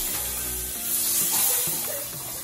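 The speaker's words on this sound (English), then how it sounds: "Into the same ghee, add 1 teaspoon cumin seeds and then the crushed black pepper. Mix for a few seconds and add curry leaves." Cumin seeds, crushed black pepper and curry leaves sizzling in hot ghee, a brief soft hiss and crackle up close, swelling slightly in the middle before settling.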